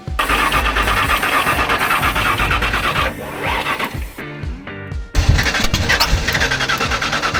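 A Ford Bronco engine cranks and sputters, trying to start, with a loud steady churning, a brief drop in the middle, then it catches again and runs roughly.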